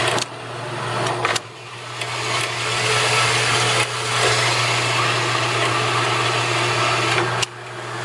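A Turn Pro 7 x 10.5 inch swivel base band saw with a 3-speed geared head runs in first gear, giving a steady, loud motor and gear hum with a constant low drone. It is close, and a few faint clicks come through.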